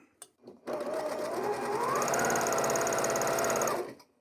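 A sewing machine runs in one fast, steady burst of rapid stitching as fabric pieces are chain pieced along an edge, starting after a couple of soft clicks and stopping cleanly, with no voices.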